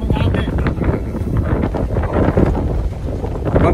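Strong wind roars steadily across the microphone aboard a sailboat under way, buffeting without pause for the whole stretch, with broadband rushing loud and close.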